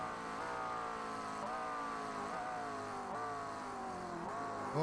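A GT3 race car in iRacing on the Daytona road course brakes and downshifts, its engine note dropping in repeated stepped blips that fall and rise over a steady drone, with no voices.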